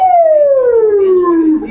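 A man imitates a BOPE police siren with his voice, a single loud falling wail that glides steadily downward in pitch for under two seconds, close and alone without other talk.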